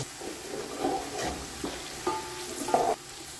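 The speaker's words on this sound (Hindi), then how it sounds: "प्याज़ों को जो है अच्छी तरह से डार्क ब्राउन कलर होने देकर भूनेंगे।" Onions frying in a pot for chicken yakhni pulao, a soft sizzle with scraping stirring strokes and occasional clinks of a utensil, fairly quiet and close, with no talking.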